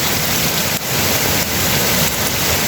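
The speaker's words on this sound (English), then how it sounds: "So it's raining in Portland, guys." Rain falls steadily in Portland, a loud, close, continuous wash of drops hitting the ground with no talking.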